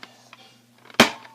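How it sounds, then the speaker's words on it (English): A Nerf toy pistol is pulled back and cocked, giving a few soft plastic clicks followed by one sharp, loud snap near the end, close by with no talk. "Then here's the cocker. You pull it back."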